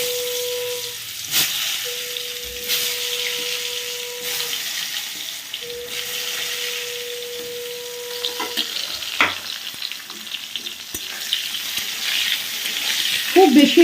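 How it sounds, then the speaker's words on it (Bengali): Eggplant slices go into hot oil in a home kitchen, a soft sizzle and crackle of frying under stirring and utensil clatter, with a few intermittent tonal beeps and rising spatter toward the end. "তো আমার তেলটা এখানে খুব ভালোভাবে গরম হয়ে গেছে, আমি একটু তেল দিয়ে নিয়েছিলাম, দিয়ে দিচ্ছি বেগুনটা।"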